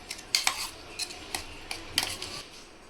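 Ground black bean paste frying in oil in a pan, quiet sizzling broken by several sharp metallic scrapes and clinks of a utensil stirring against the pan, close and without voices.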